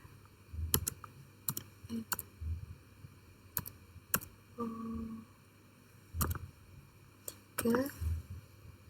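A password goes in on a computer keyboard as a few sparse, sharp key clicks spaced irregularly across several seconds, with a steady faint electronic hum beneath and a brief tonal chirp partway through.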